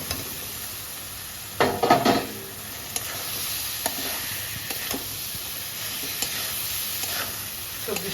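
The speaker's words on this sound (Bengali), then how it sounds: "ভাজা আলু পটলগুলো দিয়ে দিচ্ছি" Fried potatoes and pointed gourd go into hot spices in a pan for stir-frying: a constant sizzle with a burst of clattering as they drop in, then scattered scraping stirs; no talking.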